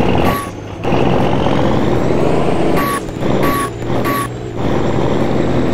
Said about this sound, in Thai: โอ้โหเบรกโคตรยากเลยท่านผู้ชมแสดงว่าหนักหนักแบบหนักเลยอ่ะ